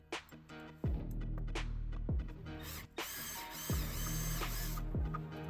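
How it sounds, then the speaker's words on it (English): Drilling out a cap during a Harman Kardon audio upgrade on a 2014 Mercedes AMG E-Class, a close power drill running in several bursts with sharp mechanical starts and stops, no talking. "we'll go in there and we'll drill this."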